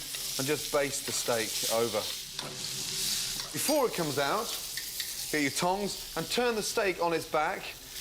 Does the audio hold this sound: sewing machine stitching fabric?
no